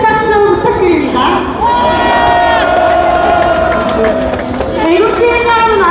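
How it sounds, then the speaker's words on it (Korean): Crowd at a political rally cheering and shouting together, loud and sustained, with raised voices and calls rising and falling over a continuous roar of applause. "큰 박수 부탁드립니다."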